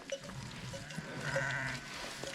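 Several sheep and goats bleat from nearby in a steady, overlapping chorus, with a rough outdoor background noise running underneath.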